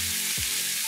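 Meat browning in a thin layer of hot oil in a pan, a loud, continuous close sizzle with a brief low thump partway through.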